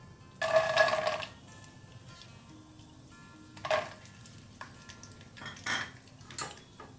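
Peanuts and cumin seeds stirred in a hot pan with oil, giving a loud scraping, clattering burst of spoon against metal, then a few shorter scrapes and a low background sizzle, with no talking.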